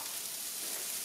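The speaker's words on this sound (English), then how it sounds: "Hear that sizzle." Pork frying in a hot pan for sesame pork burgers, giving a steady, close, bright sizzle with no talk over it.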